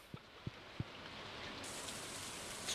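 Steady rain in the Stardew Valley farming video game hisses evenly throughout, with three soft taps near the start.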